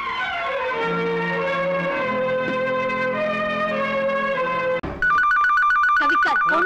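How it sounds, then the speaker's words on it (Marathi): A sustained musical chord plays, then after a brief dropout a telephone starts ringing: loud, bright electronic trills repeat in a rapid pulsing pattern near the end. "फोन उचला तो"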